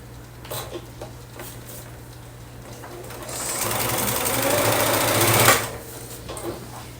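A sewing machine stitches quilt block pieces for a Hugs and Kisses quilt, running steadily and close, building from a light patter to a sustained louder whir before stopping abruptly.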